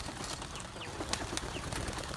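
Young racing pigeons edge out of their loft onto a board, giving soft, faint fluttering and cooing against a steady, noisy background.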